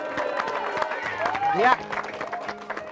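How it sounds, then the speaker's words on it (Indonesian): Group clapping breaks out around the presenters after a house is handed over on an Indonesian charity TV show, mixed with close chatter and a brief sung or shouted vocal swoop. "Tepuk tangan dulu."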